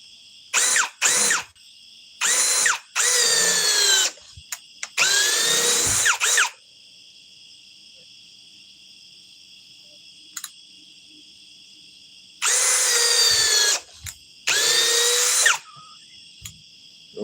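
A Ryobi power drill whirs close and loud in short bursts, with the motor speed rising and falling in each run and quiet gaps between runs.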